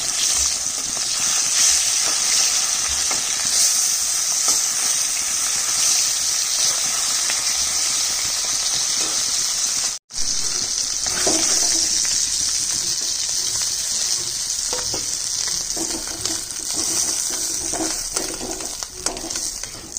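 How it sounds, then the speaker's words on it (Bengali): Continuous sizzling and hissing of fish frying in hot oil, with occasional crackles and soft stirring scrapes, close by. "মাছ ভাজা হয়ে গেছে।"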